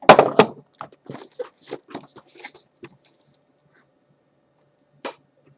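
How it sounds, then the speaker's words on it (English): Gray Cooler Master Quickfire Rapid keyboard, the smaller edition with blue switches, clicking in a quick, loud burst of keystrokes that thins to a few scattered clicks, then one last sharp click after a pause. "Cooler Master Quickfire Rapid keyboard, the smaller edition with blue switches and a gray body"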